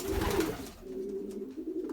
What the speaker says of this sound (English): down there is one of those small pigeons we use for dropping